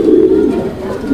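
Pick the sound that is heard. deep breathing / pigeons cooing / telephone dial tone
pigeons cooing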